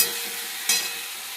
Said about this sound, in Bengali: আমার শুকনো মশলাটা আছে ড্রাই স্পাইসের সেটা আমি এবার একটু জল মিলিয়ে এর মধ্যে দিয়ে দেবো